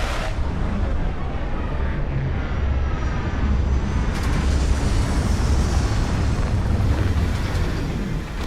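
A spaceship descending to land in Starfield, a steady, loud, broad engine roar holding level throughout with a deep rumble underneath and no talk.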